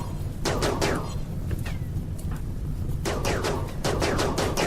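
Automatic gunfire rattles from a RimWorld colony battle: several short bursts of rapid shots separated by pauses, loud and close against a steady game background.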